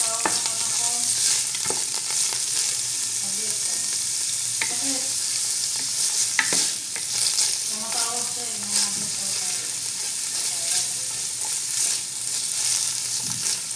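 Ingredients sautéing in kitchen oil for a sotanghon beef dish, a continuous bright sizzle with occasional stirring scrapes and clinks, close and steady.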